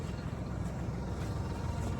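A tractor engine runs steadily in the snow, a constant low droning rumble with a dense, even texture throughout and no break.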